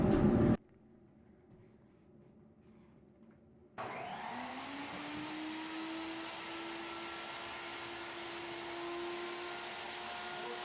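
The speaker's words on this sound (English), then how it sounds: "It's easier to just do it on a table saw." A table saw used to trim recycled metal ceiling grid starts up after a short silence and settles into a steady, loud motor whine that holds for several seconds.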